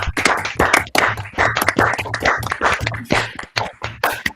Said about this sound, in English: you have to open up all your microphones and clap your hands